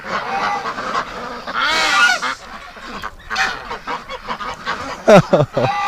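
Wintering geese and ducks honk loudly and close by in repeated, overlapping calls, with several sharp bursts near the end and no talk over them.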